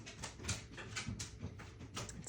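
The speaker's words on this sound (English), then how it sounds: "It's my dog climbing up and down the stairs." A dog climbs up and down a household staircase, its paws making repeated soft thuds at an uneven, steady pace, close by and with no talking.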